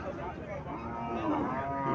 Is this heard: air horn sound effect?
no